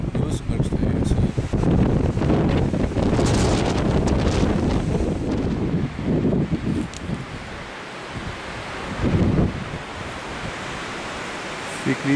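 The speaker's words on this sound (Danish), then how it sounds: "Det er blæst rigtig, rigtig meget." Strong wind buffets an outdoor microphone during a rifle hunt, a loud continuous roar with gusty swells and rumbling low-end pressure that fills the whole stretch.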